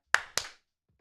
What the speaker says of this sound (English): Can we give him 2 claps when he gets up there?